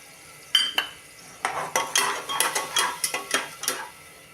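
Dry split mung lentils pour and rattle into a metal pan in a series of quick scraping bursts, followed by stirring clinks, close and fairly loud.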